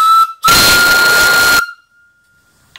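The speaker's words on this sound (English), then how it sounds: "I'll blow the whistle." A short chirp, then a loud, breathy whistle on a small live steam boiler blasts for about a second before cutting off, leaving a faint hiss.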